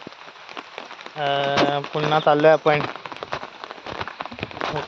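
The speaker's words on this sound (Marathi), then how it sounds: "पावसाचे दिवस आहेत" Monsoon rain patters steadily on the ground and surfaces during a walk around Nive Budruk near Devrukh. The hiss continues throughout while a person speaks briefly over it, close by.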